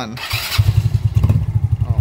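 A Yamaha Mio Sporty scooter engine idles close by with a rapid, even low putter after a short start-up clatter, while someone talks over it.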